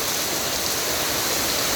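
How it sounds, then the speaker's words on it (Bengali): Heavy rain pours down in Rajibpur, Kurigram, a dense, loud and unbroken hiss filling the whole moment with no voices. "বাড়িতে আসার পর থেকেই প্রচণ্ড বৃষ্টি হচ্ছে, দেখেন"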